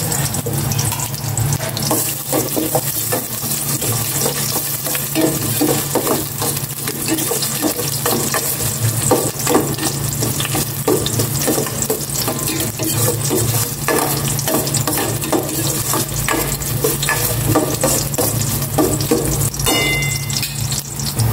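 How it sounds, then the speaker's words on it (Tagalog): Ginger sautéing in a pan, with loud continuous sizzling and the scrape and clatter of stirring running steadily throughout. "Unahin mo gisa itong luya."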